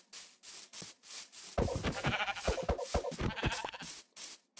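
Sheep in the Minecraft video game bleat repeatedly at close range, a string of short wavering calls clustered in the middle of an otherwise quiet stretch.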